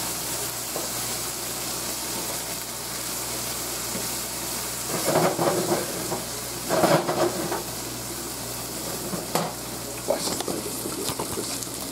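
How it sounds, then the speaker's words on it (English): Food sizzles and crackles steadily in a hot frying pan, a constant hiss with louder bursts as it is stirred, while a person speaks at times. "Oh, you hear that sizzling."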